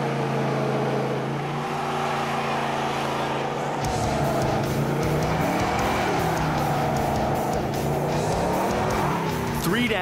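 A car doing burnouts at a motorsport event: a loud, continuous engine roar that rises and falls in pitch, mixed with harsh squealing tires that continue throughout.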